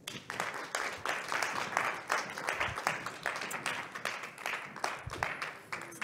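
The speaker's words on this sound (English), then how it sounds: "A round of applause for Tammy Robert." A studio audience applauds guest Tammy Robert on an evening talk show, a modest burst of clapping that holds steady for several seconds at moderate volume.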